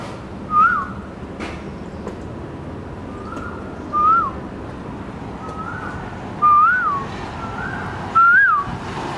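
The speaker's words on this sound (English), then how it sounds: "That's me whistling, by the way." A person whistles short rising-and-falling notes four times, spaced a couple of seconds apart, over a quiet outdoor background.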